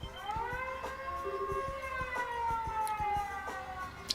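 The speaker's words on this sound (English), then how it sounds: "I thought there was like air raid sirens going off." Air raid siren from the video game Trails in the Sky, a sustained wailing tone that holds steady and slowly sags in pitch, with regular percussive ticks beneath it.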